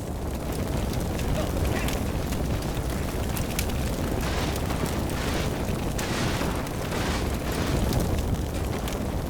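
Gunfire and explosions rumble through a WWII battle in Combat Mission Final Blitzkrieg, a steady wash of distant booms and crackling shots with a few sharper bursts standing out, no pauses.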